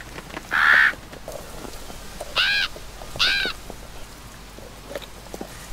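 Crows caw in the video game WolfQuest in a winter scene: one loud harsh call, then two more spaced calls over a faint outdoor background, no voices.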